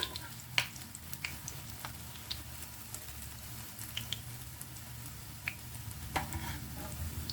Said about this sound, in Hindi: इसी तरह से इनको पलट पलट करके फ्राई कर लेंगे।